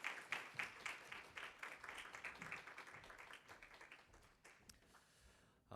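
An audience at a special lecture claps to welcome a professor, a dense patter of applause that is fairly quiet and tapers off toward the end.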